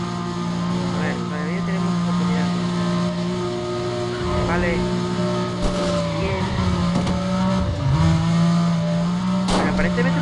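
Race car engines in Need For Speed: Undercover, including a Porsche, drone loudly and steadily with shifting pitch and occasional rises, under a voice talking over them.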